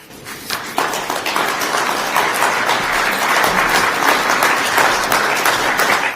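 A conference audience bursts into applause. The clapping starts with a few scattered hands and quickly builds into dense, loud, sustained clapping that carries on steadily to the end.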